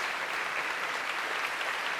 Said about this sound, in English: Rapturous applause here at Wigmore Hall.